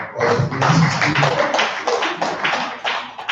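Dense, steady applause from an audience at a Rotary International District 9112 membership meeting, many hands clapping close and loud for the full length with no speech over it.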